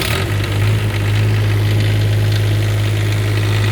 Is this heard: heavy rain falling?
no